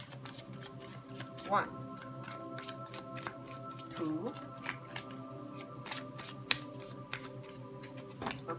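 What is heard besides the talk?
shuffling a tarot card deck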